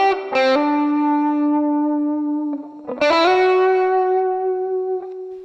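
Sustained distorted electric guitar notes through a MOOER GE200 ring out with a lush reverb tail, two long held chords separated by a brief pick attack.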